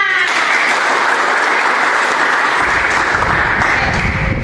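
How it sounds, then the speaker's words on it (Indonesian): Students in a classroom clap together on cue, a broad, steady burst of hand claps that stays loud for several seconds, with a low rumble joining partway through. "Oke, tepuk tangan."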